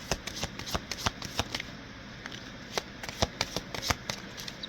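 Tarot cards being shuffled by hand, a steady run of quick, crisp riffling slaps and flicks, close and fairly soft, with no talk over them.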